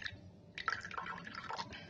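Water poured from a cup into an electric tea maker, a brief trickling, splashing fill that rises and continues steadily at close range with no talking.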